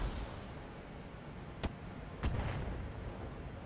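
Weapon fire strikes a Banshee mech in the BattleTech video game, with two sharp, booming impacts about half a second apart over a low, steady background rumble.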